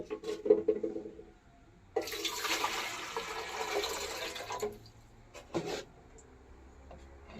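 After a few soft clicks, water pours in a steady rushing stream into a container for a couple of seconds, then stops, followed by a light knock.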